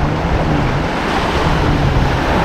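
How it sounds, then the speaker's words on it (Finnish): Waves roll onto an archipelago shore during a sea kayaking trip, a dense, steady wash of surf mixed with wind noise, loud and close, with no voices. "Normaali aalto tulee rantaa."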